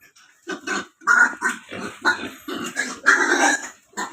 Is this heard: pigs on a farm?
yes